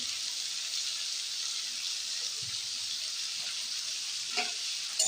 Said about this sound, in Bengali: পেঁয়াজ, রসুন, কাঁচা লঙ্কা, টমেটো সব একসাথে ভালো করে কষিয়ে নিয়েছি বন্ধুরা তেল দিয়ে